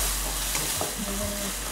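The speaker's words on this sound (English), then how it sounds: "I'm going to stir fry it really quick so that it gets evenly" Shrimp stir-frying in a wok for lo mein, a steady close sizzle with a few short scraping strokes of stirring, no voices.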